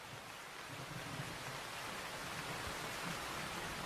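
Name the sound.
heavy rain falling in the jungle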